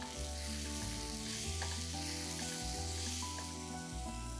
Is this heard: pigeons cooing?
no